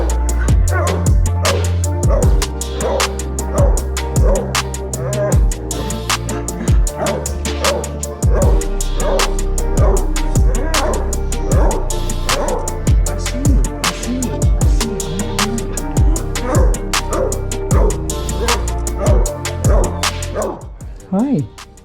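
A dog barks and yips repeatedly in short bursts, loud and close, with whimpering mixed in across the whole stretch.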